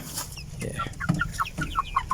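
Chickens clucking in short, scattered calls, with several birds sounding close by over a low background hum.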